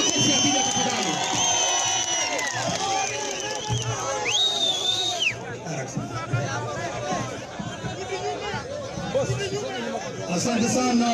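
A crowd at a college event in Kisii County, Kenya, claps and cheers with whoops and excited babble over a loudspeaker voice, loud and sustained throughout.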